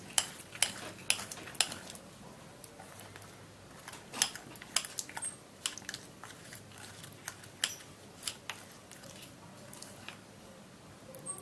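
A thick gram flour paste with egg and baby oil is mixed briskly in a bowl, a utensil clicking and scraping against the sides in quick irregular taps over a soft wet squish.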